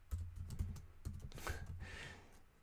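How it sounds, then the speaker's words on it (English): Quick bursts of close keystrokes tap on a computer keyboard, a few irregular clusters of clicks with short pauses between them, alone without talk. "It's hard to type and talk."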